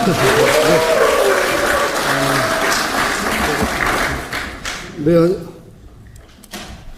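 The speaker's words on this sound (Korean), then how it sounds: "박수 한번 부탁드리겠습니다." Attendees at a People Power Party Gyeonggi Provincial Council on-site policy meeting in Gonjiam, Gwangju applaud loudly for several seconds, with a voice over the start. The clapping then thins and fades into sparse claps and quiet room sound.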